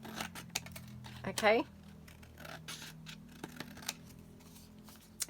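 Scissors trim paper close by with a short run of quick crisp snips, surrounded by quiet rustling and small taps, and a brief spoken word.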